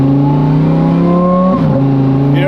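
A supercharged Lamborghini Huracan STO engine runs loud and near, holding a steady drone before dipping and climbing again, with a faint supercharger whine layered above.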